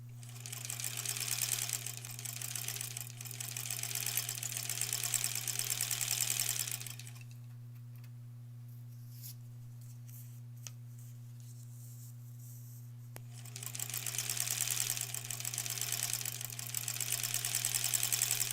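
Sewing machine stitching a Country Star quilt block, a fast steady whirring hum that stops for several seconds of quiet and then starts again, over a constant low electrical drone.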